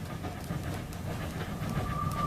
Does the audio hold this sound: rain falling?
no